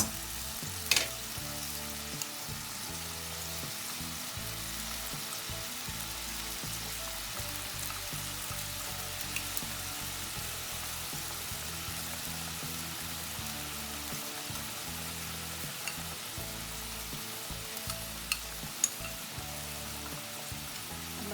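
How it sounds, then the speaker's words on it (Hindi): Spices for a white pumpkin leaf curry fry in a pan with onion and garlic, giving a steady close sizzle throughout with a few sharp pops. "मसाले अभी भून रहे हैं और साथ ही में मैं इसमें ये सारे मसाले भी डाल दूँगी।"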